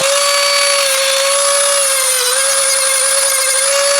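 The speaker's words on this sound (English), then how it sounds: "while I'm cutting with my die grinder" A die grinder cuts through metal cable, giving a loud, steady high-pitched whine that holds nearly the same pitch throughout, with no pauses or voices.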